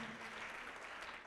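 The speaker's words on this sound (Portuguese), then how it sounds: "Vamos aplaudir mais ao nome de Jesus" A church audience breaks into applause, a dense, continuous roll of clapping from many hands. The sound is quiet overall, and a faint voice sits at the very start.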